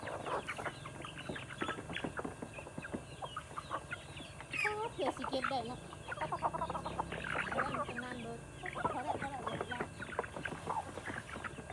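Chickens cluck and call repeatedly at close range on a rural Thai homestead, with Thai speech running over and between the bird sounds throughout.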